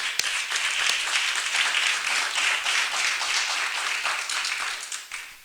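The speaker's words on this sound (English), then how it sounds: "Let's give our honorees a round of applause." An audience at a county freeholder meeting claps for its honorees, a dense, sustained round of applause lasting several seconds before tapering off at the end.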